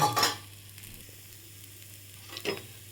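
Oil poured onto a paruppu podi dosa on a hot pan, giving two short bursts of crackling sizzle with a quiet low hiss and hum between them.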